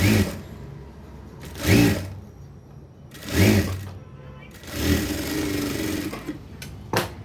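A sewing machine stitching a double stitch on a dress gives loud whirring runs in four separate bursts with softer mechanical rattle between them, close and steady.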